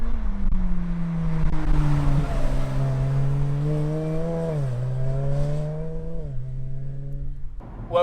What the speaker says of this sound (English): Welcome to a 500 horsepower dual clutch gearbox Exige 430 Type 25